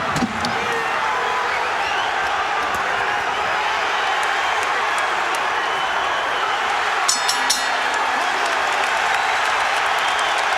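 A boxing arena crowd in Atlantic City at a Gatti–Branco WBC title fight roars on its feet, a dense, loud, continuous wall of cheering and applause with a few sharp claps near the end.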